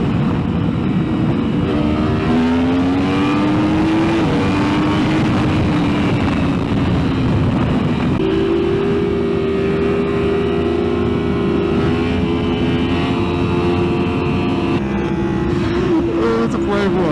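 Yamaha R1M motorcycle with stacks, filter and full exhaust, its engine holding a loud, steady high-revving drone that climbs and shifts pitch around eight seconds in, with engine tones throughout and no speech.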